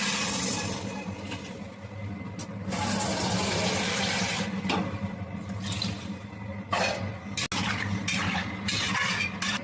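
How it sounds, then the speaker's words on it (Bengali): Water pours into a pot of spiced masala with cauliflower for a rohu fish curry, giving a steady, close rushing splash that continues throughout with a few brief clinks and shifts in flow. "পরিমাণ মতো জল দিয়ে দিলাম"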